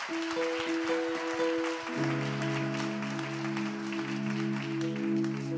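Steady applause from a church congregation during a worship service runs throughout, with sustained organ-like tones swelling in underneath partway through.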